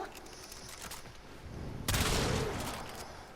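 A Tigris Prime shotgun fires at heavy gunner enemies in the game Warframe. Quieter shot bursts are followed by a louder booming blast that fades out.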